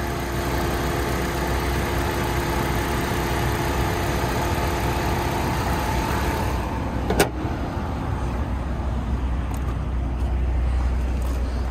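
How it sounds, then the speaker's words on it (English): A 2004 Saturn Ion's four-cylinder Ecotec engine idles steadily, a close and continuous mid-range hum with one brief knock partway through and no talking. "Four-cylinder Ecotec."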